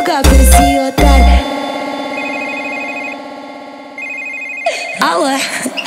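A telephone rings within a Brazilian funk track after a call is placed, the ringing tones repeating steadily over the sustained music between louder vocal bursts.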